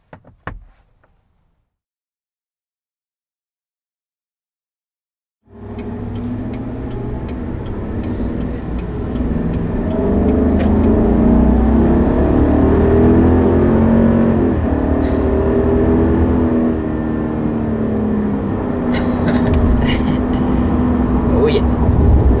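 A 2021 Chevy Silverado Trail Boss with the optional 6.2-liter V8 starts after a few seconds of silence, then idles and revs loudly and close by, a rumbling steady drone that rises slightly over time.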